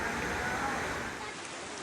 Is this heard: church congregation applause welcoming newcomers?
no